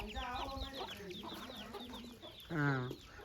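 Guinea fowl and silkie chickens on a farm, close clucking and squawking calls in a quick irregular series, with one louder, drawn-out cry near the end.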